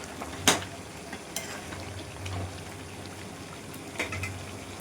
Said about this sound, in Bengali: এবার মাংসের আলুগুলো দিয়ে দেবো। মাংসের আলুগুলো দিয়েছি। এবার ভালো করে কষাতে হবে।